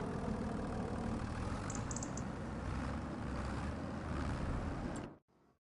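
A tractor engine idles in a PS5 farming game, a steady low rumbling drone held evenly for several seconds before cutting off abruptly at the end.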